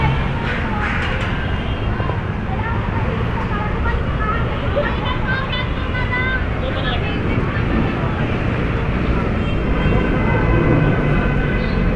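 An LRT light rail train on Taft Avenue rumbles along amid busy street noise and crowd chatter, a steady mechanical drone with metallic squeals blending into the urban din while people talk nearby.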